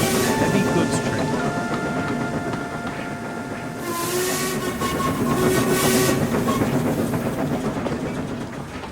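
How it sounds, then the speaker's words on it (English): Heavy goods train rumbling past with a steady clatter of wagons and a long tonal whistle rising out of the noise, loud and close, with a voice narrating over it. "Gordon's speech was interrupted by a booming whistle in the distance"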